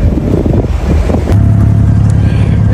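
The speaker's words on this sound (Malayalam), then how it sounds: "നമ്മുടെ ബോട്ട് ഇത് എടുത്തു തുടങ്ങി." An RTA passenger boat's engine in Dubai rumbles loudly and steadily as the boat pulls away, with heavy wind buffeting the microphone close by.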